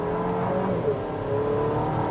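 A 2026 Buick Enclave Avenir AWD accelerates hard on a wet road, its engine a steady, rising drone with tire and road hiss, heard from inside the cabin.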